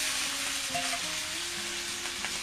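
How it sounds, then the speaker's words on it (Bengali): Potato and eggplant frying with spices in a pan, a steady loud sizzle throughout with faint stirring, no voices. "মশলার সাথে ভেজে নেব আলু বেগুনটা"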